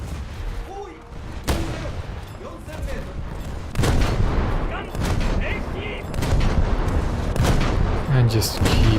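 Warship game battle with gun turrets firing on destroyers: rapid volleys of booming naval gunfire and loud concussive blasts layered over a heavy rumble, growing denser toward the end, with someone speaking intermittently over the shooting.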